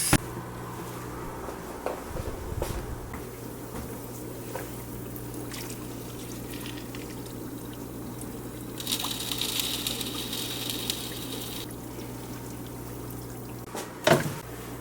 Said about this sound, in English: Gravel washing time. I always wash my gravel